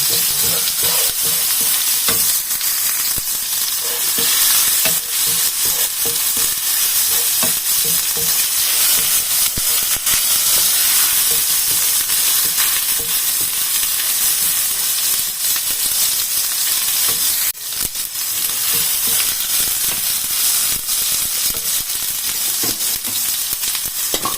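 Ingredients sauté in a hot pan before curry goes in, a steady loud sizzle and hiss with frequent stirring scrapes running throughout, close and unbroken.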